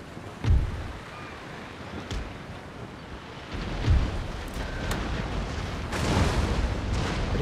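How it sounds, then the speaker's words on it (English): Warships in the Empire: Total War video game fire cannon broadsides, heard as several deep booms at irregular intervals over a rumbling battle din, with the last blasts blending into a longer roar. "I did get a good broadside there though, and I think I killed quite a few people with it as well"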